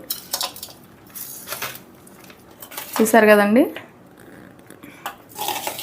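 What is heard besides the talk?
mixing lemon rice with tempering in a vessel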